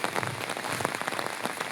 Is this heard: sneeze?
no